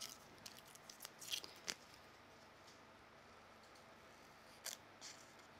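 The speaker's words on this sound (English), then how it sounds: "I'm just going to trim the edge with the scissors here." Scissors trim the edge of a paper card at a crafting table, a few faint quick snips in a short cluster followed by a lone pair of cuts, all soft against a quiet room.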